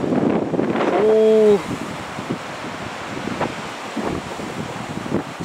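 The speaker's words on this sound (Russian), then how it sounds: "Свищет ветер, ядрит его в дышло." Heavy wind rumbles and gusts against the microphone throughout while fishing on the Pra River in the Meshchera region, Russia, loud and constant, while a man exclaims briefly over it.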